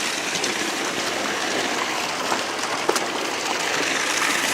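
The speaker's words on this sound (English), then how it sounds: "Little waterfalls are everywhere now because it rained for almost 2 days straight." Small waterfalls swollen after two days of rain in Georgia rush in a steady, loud, continuous wash of water.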